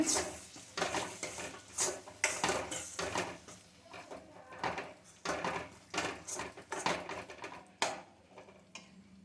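Metal spoon scraping and clinking against a pan in irregular strokes while stirring masala in oil for fish curry, close by and fairly quiet, with no talking.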